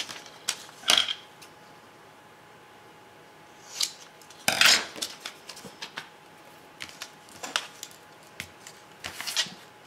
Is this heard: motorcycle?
no